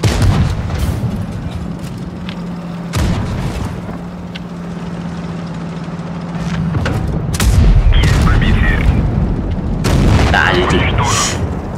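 Tank cannon shots in the video game World of Tanks, heavy booming blasts breaking through a steady engine hum during play, with several sharp reports and rumbling impacts; a voice talks over parts of it.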